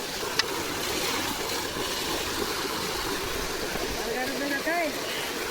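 Water gushing out in a chickpea field, a steady rushing flow heard up close, with a voice and brief bursts of talk near the end.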